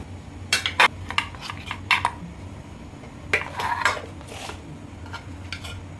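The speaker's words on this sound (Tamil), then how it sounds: "இட்லி தட்டை நல்லா சூடாக தண்ணி கொதிக்கும் போது இதை வச்சுடுங்க. வச்சுட்டு மூடி போட்டுடுங்க." Metal idli plates and a steamer pot clatter as the plate is set inside and the lid goes on, producing sharp scattered clinks and scrapes, close and fairly loud over a low, steady background hum.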